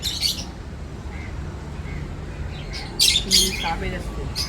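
Sharp, high squawks from nearby birds come in bursts at the start and again near the end, with a faint low murmur of talk underneath.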